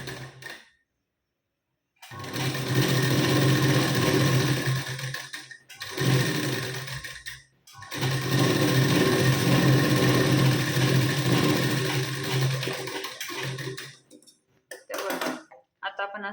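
A sewing machine stitches a half-inch seam joining a blouse lining strip in several loud, sustained runs separated by short pauses, with brief clicks and handling between bursts.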